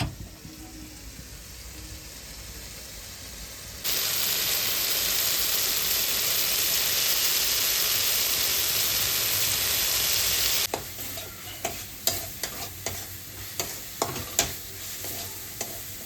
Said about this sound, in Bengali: পরিমাণ মতন জল দিয়ে কষাবো।